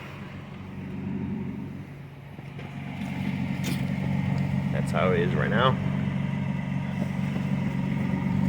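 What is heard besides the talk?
Toyota Tacoma idling with factory exhaust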